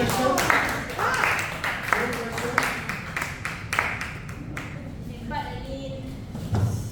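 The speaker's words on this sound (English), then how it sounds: "Please give her a big clap." A class audience claps for a student who answered correctly: a burst of scattered hand claps over the first few seconds, mixed with room noise and a speaking voice, then thinning out as the talking continues.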